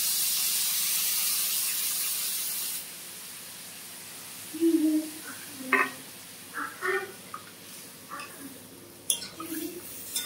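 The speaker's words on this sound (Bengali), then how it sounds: "আমি এখন জল দিয়ে দিলাম।" Water goes into a hot pan of cauliflower and potato curry with paneer and bori, giving a loud rushing hiss for a few seconds, then quieter clinks and scrapes of a utensil against the pan.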